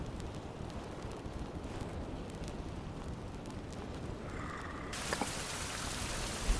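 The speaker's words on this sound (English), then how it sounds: "Oh, I caught it right at the start of the rainstorm." Rain starting in the 16th-century survival game Survival: Fountain of Youth, a steady hiss of falling drops over a low rumble that grows brighter and denser toward the end, with a faint tone partway through.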